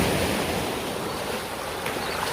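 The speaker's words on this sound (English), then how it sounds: "This is the river that runs into the sea." Broadband rushing water where a river meets the sea at Ocho Rios, Jamaica, near a fishing beach; a steady, loud wash of surf and flow with some wind, continuous and without talk.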